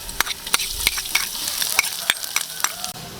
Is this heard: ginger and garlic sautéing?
yes